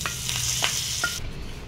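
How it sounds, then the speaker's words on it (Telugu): Hot tempering with curry leaves tipped into coconut chutney, a steady close sizzle with a few sharp crackles, dying away abruptly after about a second. "ఇది పోపు వచ్చి మనం ఏదైతే చట్నీ చేసుకున్నామో అందులో వేసేయాలి"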